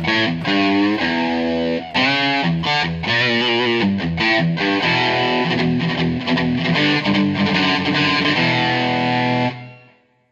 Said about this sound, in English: So here's a pretty nice rhythm distortion tone.